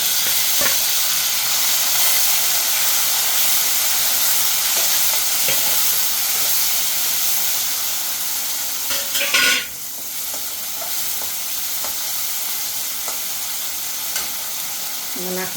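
Tomatoes go into a hot pan for a Gujarati moong dal fry and sizzle with a steady frying hiss, stirred with scraping strokes; a sharp burst of sizzle rises midway before settling back.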